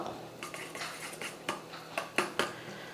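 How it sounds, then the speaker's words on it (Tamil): Eggs with salt, pepper and chili powder are beaten in a bowl until frothy, making quiet, irregular metallic clinks and taps of a whisk or fork against the dish. "நல்லா நுர பொங்கி வர அளவுக்கு முட்டையை வந்து நல்லா அடிச்சிக்கணும்"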